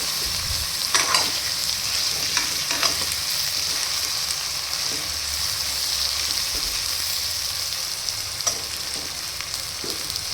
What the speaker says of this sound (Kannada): ನೋಡಿ ಈ ಥರ ಫ್ರೈ ಮಾಡ್ಕೋಬೇಕು